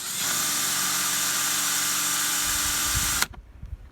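A loud, steady high-pitched drill whine as a drill bit bores into plastic runs continuously for about three seconds, then cuts off abruptly, leaving faint clicks and handling noise.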